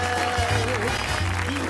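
A crowd claps in a short burst of applause, steady and fairly close, with a voice talking over it.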